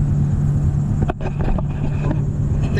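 A worn wheel bearing on a Ford Ranger gives a steady low droning hum inside the moving truck, mixed with continuous road rumble and wind noise, with no voices.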